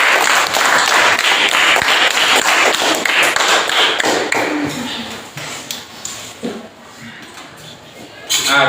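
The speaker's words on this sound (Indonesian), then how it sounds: "Kita tepuk tangan dulu" Classroom applause as students clap their hands together in a lesson on circle formulas, a dense burst of claps that fades toward the end with voices murmuring over it.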